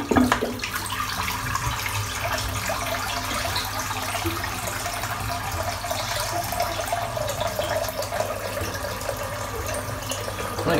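A bathroom tap runs steadily while shaving water is changed, giving a continuous loud rushing stream of water that fills the whole stretch without a break.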